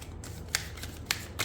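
Tarot cards shuffled by hand in short riffling bursts, a few crisp rustles spaced about half a second apart over a quiet low hum, no voices.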